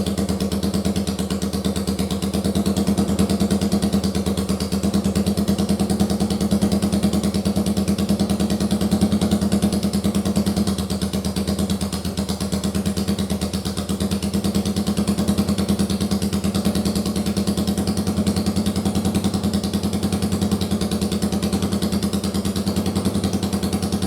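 A first-generation Yamaha Virago motorcycle engine cranks over and settles into a steady, loud, close idle with an even rumbling throb that runs unbroken for the whole stretch.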